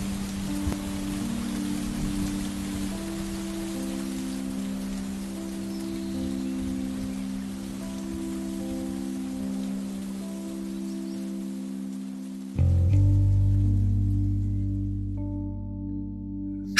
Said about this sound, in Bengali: বৃষ্টি সবে নামতে শুরু করেছে